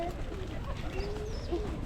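At a small zoo in Bohol, a pigeon gives soft low coos over a steady, noisy background. The coos are faint to moderate in level.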